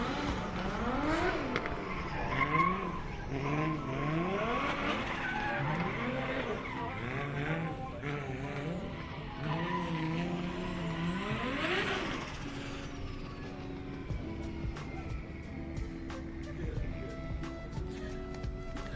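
Scotty Dinsdale's 2JZ-engined drift car at a DriftWars drift event at Manfeild skids hard, its engine revving in repeated rising sweeps over continuous tire squeal, loud and close, fading somewhat toward the end.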